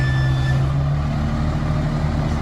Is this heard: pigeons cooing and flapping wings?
no